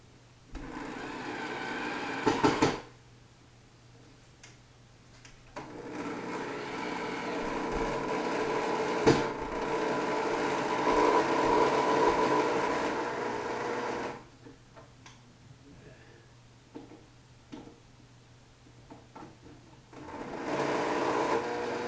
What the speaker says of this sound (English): Oh, drills are so useful.